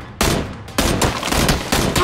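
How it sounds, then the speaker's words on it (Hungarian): Gunfire in the battle royale video game PUBG, with three loud bursts of shots at about half-second to one-second intervals, dense and close, with no talk. "De azt hallom, hogy lőnek."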